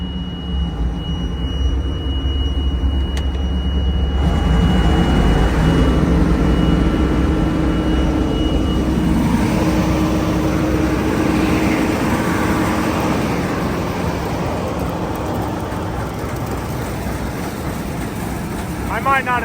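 A Massey 860 combine and a Gleaner R65 combine running in gear, a loud continuous mechanical roar that swells after a few seconds and stays steady, with a voice talking over it.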